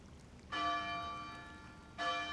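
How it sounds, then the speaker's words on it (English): A small decorative bell in the game ARK: Scorched Earth rings twice, each strike a clear bright tone with a long ringing decay, quiet and alone with no talking. "So we got this little bell."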